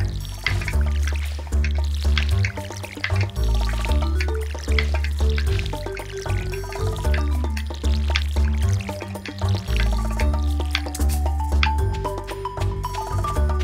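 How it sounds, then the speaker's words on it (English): Repeated splashing, pouring water from a watering can on crops in the Stardew Valley farming game, coming in regular bursts over a steady game music loop, loud and continuous with no talking. "Gonna water my crops"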